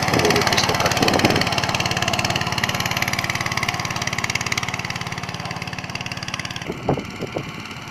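Motor Sich MB-9E walk-behind tractor with a harrow attachment: the engine runs loud and close in a steady throbbing drone, then quietens near the end, where a few knocks and clunks come through.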